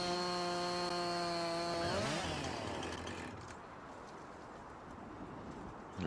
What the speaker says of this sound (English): I can chop them down with the chainsaw